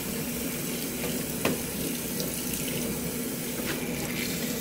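A GE GTW680BS6JWS top-load washer fills with water during a jeans cycle, making a steady, close rush of running water with a low hum underneath and one faint knock.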